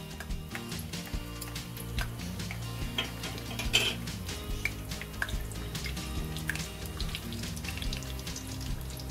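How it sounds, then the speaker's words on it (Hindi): Whole spices, including green cardamom, sizzle in hot oil for mutton keema kaleji, a steady crackle with sharp ticks and a few metallic clinks of a pan and spoon. "तेल गर्म हो चुका है हमारा, इसमें खड़े मसाले शामिल कर देंगे"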